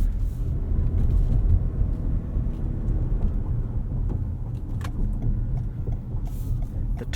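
A 2019 Toyota RAV4 Hybrid Limited drives and turns, giving a steady low cabin rumble of road and motor noise with faint bumps throughout, and no one speaks.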